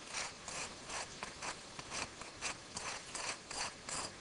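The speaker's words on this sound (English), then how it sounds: "take that soft stone side, polishing kind of a deal, and I'm going to go in one direction" A blade drawn over the soft side of a sharpening stone in a quick run of rhythmic rasping strokes, close but faint, with no talk.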